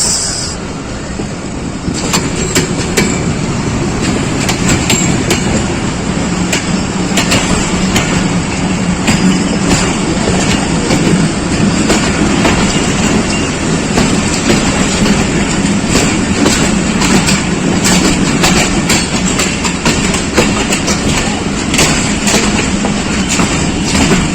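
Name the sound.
Jaffar Express train with locomotive ZCU 26412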